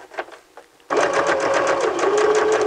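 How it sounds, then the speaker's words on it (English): A sewing machine stitching fabric runs steadily at close range with a rapid, even mechanical chatter, starting abruptly after a few faint handling sounds. "We're going to sew right up to the end"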